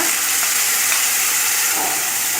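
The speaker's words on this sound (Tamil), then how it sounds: "எண்ணெய் காஞ்சோன்னே கடுகு கருவேப்பிலை போட்டு தாளிச்சுக்கோங்க" Steady, crackling sizzle of mustard seeds and curry leaves frying in hot oil, close and continuous with no one speaking.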